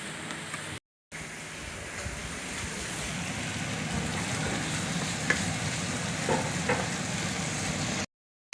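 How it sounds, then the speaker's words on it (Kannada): Fresh mint, green chillies and other ingredients for mutton saaru sauté in a pan, giving a steady sizzling hiss with occasional stirring scrapes, broken by a short silent gap near the start and ending abruptly. "ಈ ಕಡೆ ಮಹೇಶ್ ಅವರು ಸಾಟ್ ಮಾಡ್ತಿದ್ದಾರೆ."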